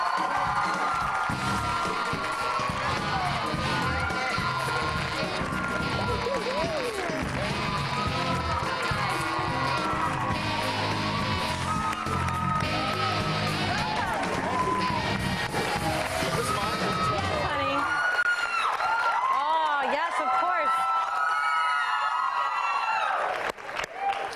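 A talk show studio audience greets a guest with continuous loud cheering, whooping, high screams and applause that fill most of the stretch, then thin out toward the end as scattered shrieks and speech come through.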